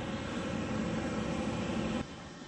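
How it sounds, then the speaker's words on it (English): A jet plane taxiing into a parking spot on an aircraft carrier deck, a loud, steady engine roar and whine that drops sharply in level near the end as if throttled back. "Lieutenant Di Gennaro taxis the plane into a parking spot and turns it back over to the plane captain."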